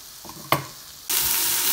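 Vegetables hitting a hot pan with a brief clatter, then a steady loud sizzle of frying that fills the rest of the moment, cooking for Chinese-style egg fried rice.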